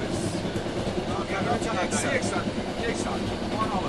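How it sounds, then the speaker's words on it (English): A slow passenger train rolls along the rails toward Mashhad in Iran, giving a steady, loud rumble with faint rhythmic clatter from inside the carriage, while voices talk over the noise. "we picked up the slow train to Mashhad"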